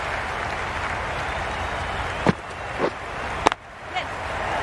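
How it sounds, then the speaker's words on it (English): A raucous cricket crowd roars in a steady, dense wash of cheering and applause, with a few sharper shouts or claps standing out near the middle and end. "The crowd are really getting quite raucous."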